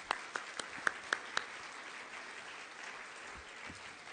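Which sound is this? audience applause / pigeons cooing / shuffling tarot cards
audience applause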